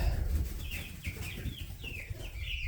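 Chickens cluck and murmur softly in a rapid series of short calls, nearby, over a low background rumble.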